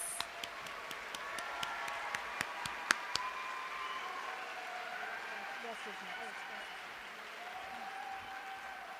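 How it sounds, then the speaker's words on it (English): Applause for graduates at a university nursing recognition ceremony, sharp claps that thin out after a few seconds, leaving a soft crowd murmur and a distant voice. "Okay, one more round of applause"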